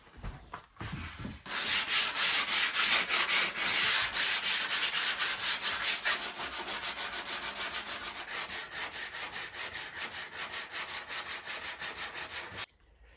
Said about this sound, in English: after many hours of sanding and filling